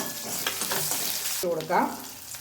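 Chopped green chili sautés with coconut pieces in a hot pan, giving a loud, continuous close sizzle broken by a couple of stirring scrapes.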